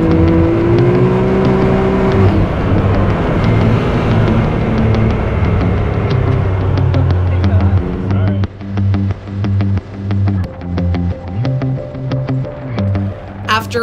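A car driving fast up a winding mountain road, its engine droning and revving loudly from inside, with pitch rising and falling through gear changes and the throttle pulsing toward the end.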